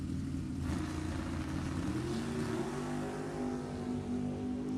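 Drag racing cars, a 1966 Mustang and a 1973 Camaro, send up a continuous low engine roar from some distance, with the pitch climbing as they accelerate and no voices over it.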